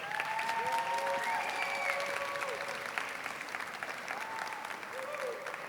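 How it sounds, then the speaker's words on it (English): A board meeting audience gives a sustained round of applause, dense clapping that fills the room and slowly tapers, with voices mixed in underneath. "Let's give them one big round of applause"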